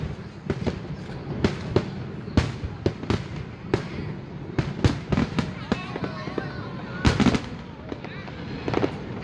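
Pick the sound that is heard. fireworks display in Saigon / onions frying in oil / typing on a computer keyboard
fireworks display in Saigon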